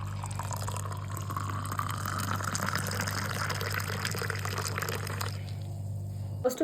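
Hot boiling water pours into a cup in a steady filling stream with a rising pitch, set over a low constant hum, and ends with a small clink.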